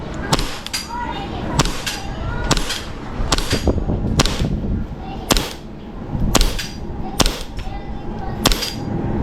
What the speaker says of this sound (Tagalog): Firing, army armament.